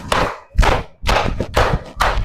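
A classroom of students claps together on a counted cue, four or five sharp group bursts of clapping in an even rhythm, loud and close, with no talk over them.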